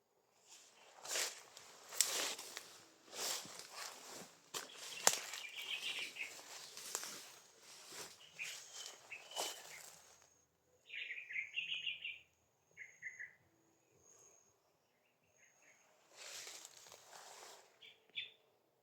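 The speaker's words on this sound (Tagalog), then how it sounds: "Maraming ibon dito mga tol." Several birds chirp and call in an overgrown outdoor path, with short bright calls scattered through a quieter second half after footsteps and rustling movement up close.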